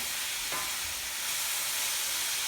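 Onions sauteing in a frying pan for spanakopita, a steady close sizzle and hiss that runs the whole time, with a brief scrape as they are stirred.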